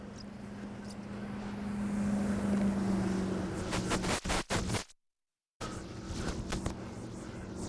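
Engine drone of a 2022 Malibu 23 LSV wake boat runs steadily on open water, with wind buffeting the microphone and splashing waves; a few sharp bursts and a brief dropout interrupt the hum.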